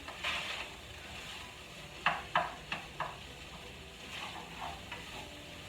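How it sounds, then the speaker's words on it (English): Enchilada casserole filling of seasoned meat stirred in a pan, with a soft background sizzle and a few distinct scraping strokes of the spoon, quiet and close. "And then you just stir it around."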